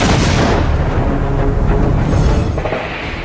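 Artillery fire along the Line of Control in Jammu and Kashmir during a ceasefire violation from the Pakistani side: a dense, loud, continuous barrage of booming rumbles with no pauses across the whole stretch.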